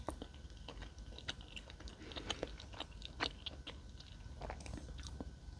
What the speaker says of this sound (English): I wonder if you're going to be able to hear me chewing every bite